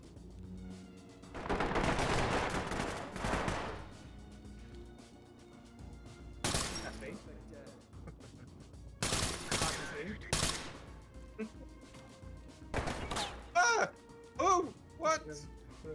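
Gunfire in the tactical shooter Ready or Not breaks out in loud bursts of shots separated by quieter stretches, with several players talking and exclaiming over the action.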